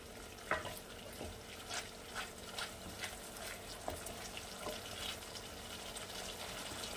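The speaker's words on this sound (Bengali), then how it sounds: "এবারে দিয়ে দেবো অল্প একটু জল, সামান্য 2-3 চামচ, বড় চামচ জল" A little water poured into a pan of Bengali katla fish korma, a soft trickle over faint kitchen hiss with a few light clinks and taps from a spoon.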